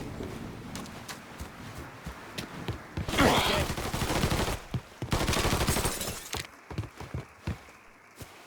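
Repeated gunfire from the Mafia 3 video game during a bank robbery, with sharp, loud bursts and rapid volleys of shots crackling through most of the stretch, strongest in the middle, amid chaotic game action.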